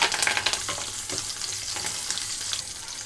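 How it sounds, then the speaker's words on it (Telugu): Mustard seeds, green chillies and curry leaves sizzling and crackling steadily in hot oil, with a few louder pops near the start and a continuous frying hiss throughout. "ఇక్కడ ఆయిల్ అంతా హీట్ అయిన తర్వాత ఇందులోకి తాలింపు గింజలు వేసుకుంటున్నాను"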